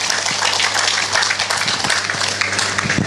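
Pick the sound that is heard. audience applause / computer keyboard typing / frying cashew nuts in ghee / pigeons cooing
audience applause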